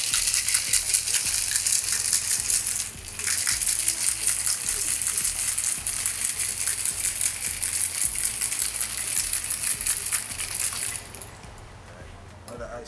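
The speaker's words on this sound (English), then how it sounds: "Another ice shake." A cocktail shaker loaded with ice is shaken hard while mixing a Barbados rum cocktail at a boardwalk bar, giving a continuous loud rattling and sloshing that runs steadily for several seconds before easing off.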